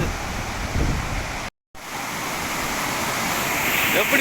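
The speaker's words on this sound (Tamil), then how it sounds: "தண்ணி அப்படியே அங்கேருந்து ஊற்றி" Steady broadband rush of the Thirumoorthy waterfall pouring and splashing, loud and close, continuous apart from a brief dropout.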